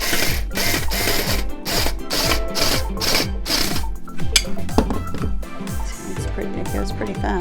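An electric screwdriver drives a screw into a glass sunflower's base, whirring in rapid repeated bursts with a buzzing, rattling pulse, up close and fairly loud.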